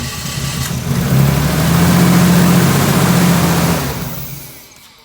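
A Nissan Skyline R33 engine idling roughly after starting, its steady low rumble swelling briefly as if it is struggling to hold idle, then fading out after a few seconds, loud and close.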